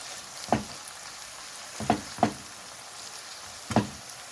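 Ground beef mince, about 300 grams, frying in a pan for stuffed peppers: a faint steady sizzle broken by four sharp, close knocks of a utensil against the pan.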